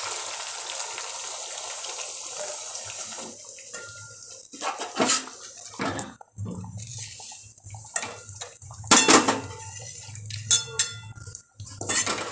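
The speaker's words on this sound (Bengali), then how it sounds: "মশলার বাটিটাকে ভালো মতো ধুয়ে এই জলটা আমি দিয়ে দেব" A spice bowl being rinsed and the rinse water poured into a pan of yogurt-style katla fish gravy: intermittent splashes and pours with clinks of a metal bowl, close and moderately loud, no talking.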